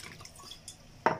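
Water poured from a vessel onto flour dough in a home kitchen, faint trickling and dripping that ends in a short louder splash.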